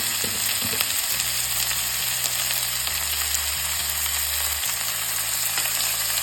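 Masala with chilli powder and garam masala sautéing in a pan for Kerala pork varattiyathu, giving a steady close hiss of frying with a low hum and light scraping early on.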